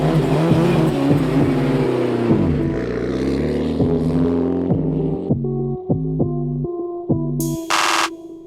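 A Mitsubishi Evo 9 rally car on a practice lap, its engine roaring loudly and close, then revving through stepped gear changes with sharp drops and a brief burst of hiss near the end.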